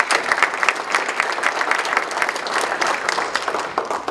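A round of applause from the audience at a panel discussion, dense steady clapping filling the room without pause or talk.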